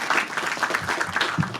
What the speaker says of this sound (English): a huge round of applause for these three people